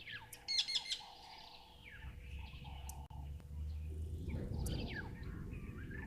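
Cape turtle doves call outdoors in the wild, mixed with bright chirps and tweets from other birds over a steady low rumble of ambient noise.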